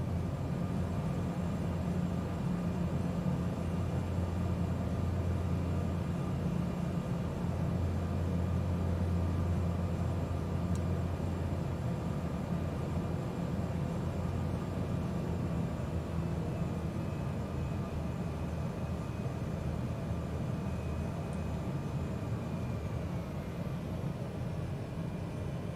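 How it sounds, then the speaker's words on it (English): Steady airliner-style engine roar of a plane landing on a runway in Microsoft Flight Simulator, Iceland bush trip, a continuous loud drone with a low hum holding through touchdown and no voices. "Pulling up. Just touching down, a little skip,"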